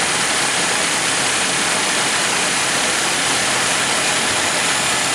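A 1947 Dodge engine idles quietly and evenly, with fan and belt noise giving a constant airy whir that stays level and close throughout, with no talking.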